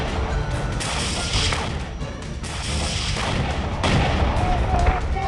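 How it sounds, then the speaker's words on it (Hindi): Grenade launcher fire from Hamas fighters against the Israeli army in Gaza, heard as a dense run of loud booms and crashing blasts that keep coming over about five seconds, with a few especially heavy hits. "हमास आतंकी ग्रेनेड लॉन्चर के साथ इजराइल की सेना के ऊपर हमले करते दिखाई दे रहे हैं"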